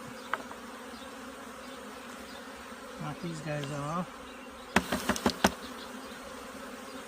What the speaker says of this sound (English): I'm going to try and get the bees off of it